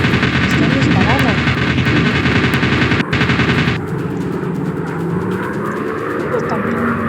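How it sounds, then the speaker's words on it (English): Machine gun fire in an aircraft combat video game, dense rapid bursts over a droning airplane engine that stop partway through, leaving the engine hum alone; a voice speaks over the action. "Están disparando."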